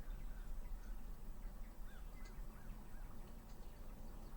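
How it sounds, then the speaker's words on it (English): A few faint caws from a crow somewhere in the distance, rising over a constant low outdoor rumble. "I just heard a crow."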